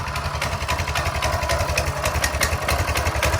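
A Coleman CT200U mini bike's small engine warms up at idle, a steady close, loud putter with an even low-pitched pulsing rhythm and light mechanical clatter throughout.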